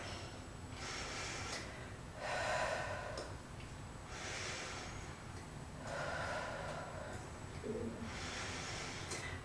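Slow, deep yoga breaths, each long inhale and exhale clearly audible in a quiet room, repeating at an even, unhurried pace.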